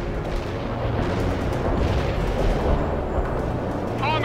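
Artillery fire mission in a war video game, a dense continuous rumble of distant booms and blasts rolling on throughout, steady and loud with no clear pauses.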